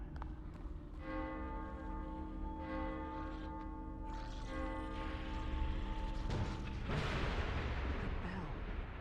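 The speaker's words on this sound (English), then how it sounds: "Bell." Ominous tolling bell in The Evil Within horror video game, with sustained ringing tones that swell and decay over several strokes, followed by a heavy rumbling burst, all set against a low, dark ambience.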